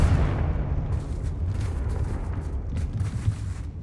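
A Confringo explosion spell goes off in the Hogwarts Legacy video game. The blast is a dense, rumbling burst that swells and sustains for several seconds, with crackling debris on top and no voices.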